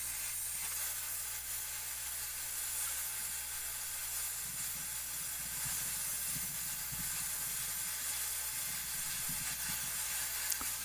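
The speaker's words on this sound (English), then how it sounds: "I'm going to go ahead and use the rosebud torch so we can actually keep applying more heat" A rosebud torch roars with a steady, broad hiss while heating heavy iron for bending in a blacksmith shop, continuous and even throughout with a faint low rumble underneath.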